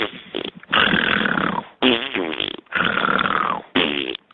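A series of four long, loud, buzzing farts, each drawn out for about a second with short gaps between them.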